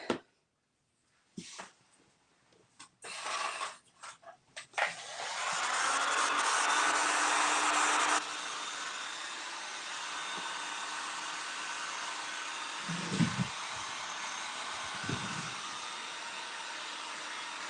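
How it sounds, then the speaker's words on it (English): A heat gun runs for a craft job, a steady broadband blowing hiss that starts with a few clicks and stays loud and constant. Faint handling knocks come through near the end. "I'm going to use my heat gun so we can get this done"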